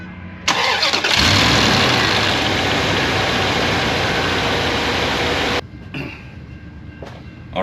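A Dodge Dakota engine cranks and fires after a water pump install, roaring steadily and loud for several seconds before cutting off abruptly, leaving quieter mechanical noise.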